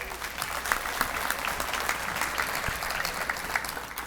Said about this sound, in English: You all give her a big round of applause